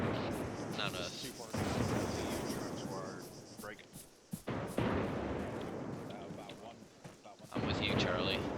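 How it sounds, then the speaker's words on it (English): Gunfire in the Arma 3 military game thuds and booms in repeated bursts, with rumbling shots spread through the scene under ongoing radio voices talking. "Sounds like something's shooting"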